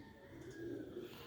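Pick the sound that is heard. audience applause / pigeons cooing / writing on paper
pigeons cooing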